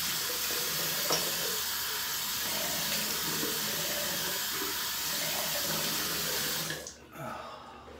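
Water runs steadily from a bathroom tap while someone rinses off after shaving, a constant hissing stream with faint splashes that cuts off near the end.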